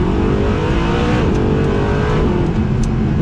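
The naturally aspirated 6.2 litre V8 of a Mercedes SLS AMG Black Series revs loudly and close by, a deep throaty roar that swells and holds with sharp crackles near the end.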